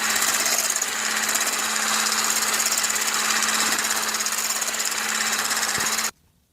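Electric mixer whipping meringue at medium speed for a Kyiv cake, a loud steady high-pitched whir with a constant motor hum, running evenly for about six seconds before cutting off abruptly.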